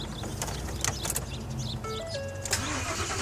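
A Ford F-150 pickup engine cranks and fails to start, giving a steady, loud mechanical churning that carries on without catching, close to the listener.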